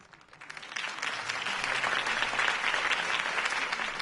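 Crowd applause in a Batman Telltale video game scene after Harvey Dent's campaign speech, swelling quickly from quiet into sustained clapping from a large audience.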